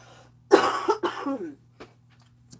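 Two or three harsh coughs in quick succession, close and loud, followed by a couple of faint throaty sounds and breaths.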